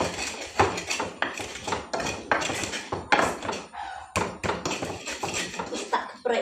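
A stone mortar and pestle grinds spices in rapid, irregular knocks and scrapes, close and fairly loud, with a brief pause partway through and no clear speech.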